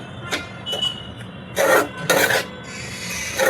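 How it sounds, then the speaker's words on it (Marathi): Ghee being stirred into mung bean flour roasting in a pan for green mung and edible gum laddoos, giving brief raspy scraping strokes that come in short bursts over a low background hiss. "दोन ते तीन चमचे मी साजूक तूप घालत आहे मिक्स करून घेते"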